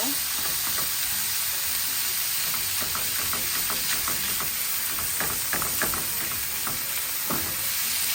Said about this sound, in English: See that the pork cooks up very quickly, already starting to brown.